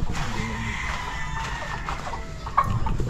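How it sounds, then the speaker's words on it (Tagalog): Pet chicken clucking during feeding, soft intermittent clucks over a steady outdoor background murmur, close by, with a slightly louder call near the end. "At nagpapatuka siya ng kanyang alagang manok."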